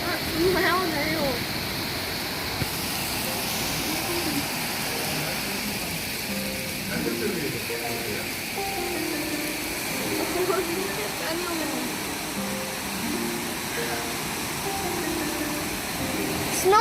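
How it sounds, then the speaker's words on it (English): Loud hail and heavy rain pour down in a Sydney thunderstorm, a dense continuous roar like rushing water, close and steady throughout with faint background noises. "that's some loud hail"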